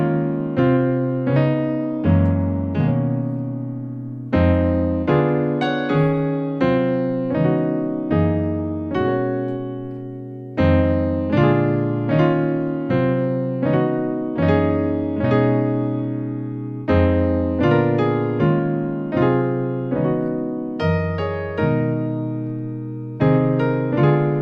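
A piano plays the intro of a song in an easy arrangement. Repeated sustained chords and melody notes ring clearly and steadily for the whole passage, with no voice.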